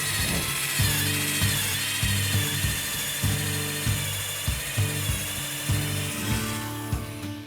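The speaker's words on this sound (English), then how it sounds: "we're just going to start off by drilling a few holes" A Harbor Freight drill with a 3/8 inch bit bores holes into a wooden fence post, a steady close whine repeatedly broken by thumps and catches as the bit bites into the wood.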